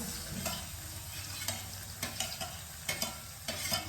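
Garlic, ginger and onion fry together in a pan under a steady, close sizzle, with a spoon scraping and stirring in several sharp strokes and no talk.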